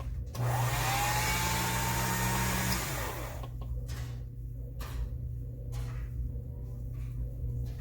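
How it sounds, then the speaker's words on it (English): A pasta machine rolls a sheet of polymer clay, giving a loud, steady mechanical whir for about three seconds before it drops away to a quieter hum with a few faint clicks. "Run that through my pasta machine."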